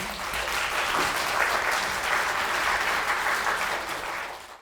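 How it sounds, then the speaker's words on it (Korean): An audience applauds to welcome a pediatrics professor onto the stage for a health lecture, a steady wash of many hands clapping that holds evenly for several seconds, then fades out. "큰 박수로 환영해 주시길 바랍니다"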